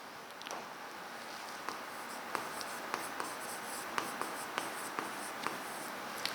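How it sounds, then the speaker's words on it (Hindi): A teacher writes on a board during a biology lecture, chalk or marker strokes tapping and scraping in a steady series of short, crisp strokes, fairly faint and with no voice over them. "2 टाइप्स लिख देती हूँ।"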